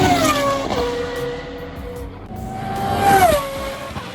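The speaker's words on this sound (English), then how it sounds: "this ex-GP2 / Formula 1 car that was whipping around the track" An ex-GP2 Formula 1 race car whips around a track, its high-pitched engine note rising and falling as it passes, with gear changes and a second sweep of revs toward the end, heard from trackside without talk.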